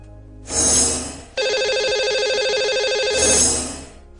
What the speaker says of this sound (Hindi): तो चलिए लगाते हैं इन्हें कॉल और करते हैं बात।